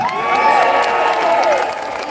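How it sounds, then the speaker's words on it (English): Crowd at a Palestinian solidarity march in Glasgow cheering and shouting together in a sustained, loud swell lasting a couple of seconds, with voices blending into one roar. "please go ahead, cheer yourselves"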